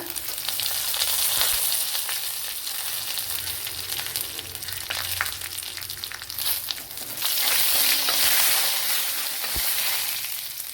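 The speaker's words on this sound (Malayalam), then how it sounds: "അപ്പോൾ ചെറിയൊരു കടുതാളിപ്പൂടെ കൊടുത്താൽ നന്നായിരിക്കും." Mustard seeds temper in hot oil for a Kerala breadfruit (sheemachakka) curry, giving a loud continuous crackling sizzle with scattered pops and occasional stirring, swelling louder toward the end.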